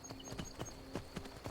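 Horse hooves clip-clop at a steady walking pace on a road in the video game Skyrim, a quiet, even series of about seven muffled thuds.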